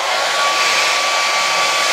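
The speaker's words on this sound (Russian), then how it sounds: "Фен есть." A powerful hotel bathroom hair dryer blows at full speed, a loud, steady, close airy whoosh carrying a thin whine, with no voices.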